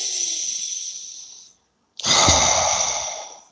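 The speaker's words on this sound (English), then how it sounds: "let's take a few deep breaths" Two slow, deep breaths close to the microphone during a guided prayer, a long airy exhale fading into a short silence, then a loud full inhale-exhale with a soft rasp, with no speech.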